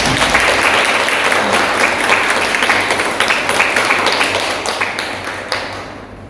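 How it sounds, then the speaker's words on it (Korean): Congregation at a church Sunday service applauding in celebration of an upcoming wedding, dense steady clapping that fills the room and fades slightly toward the end, with no talk over it. "박수로 축하합니다"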